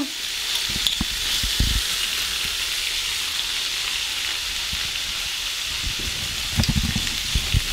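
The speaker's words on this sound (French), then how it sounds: "J'ai fait revenir légèrement l'ail dans l'huile." Garlic frying lightly in oil in a pan gives a steady, close sizzle that runs throughout, with a few soft knocks and stirring bumps near the start and end. No one speaks.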